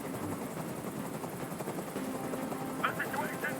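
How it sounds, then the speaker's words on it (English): A steady helicopter rotor drone runs throughout a scene in the video game Detroit: Become Human, a continuous whirring wash at moderate level, with faint higher tones near the end and no speech. "I can't stand that noise anymore. Tell that helicopter to get out of here."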